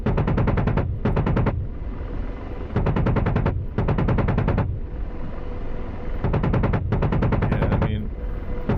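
Automatic weapon fire in a VR shooter game comes in loud rapid bursts of closely spaced shots, several volleys separated by short gaps, with low rumbling tails between bursts.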